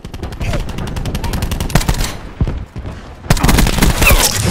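A cluster grenade in Call of Duty: Black Ops 4 sets off a loud, rapid chain of crackling blasts, a dense rattling volley that briefly thins out and then surges again, close and dominant.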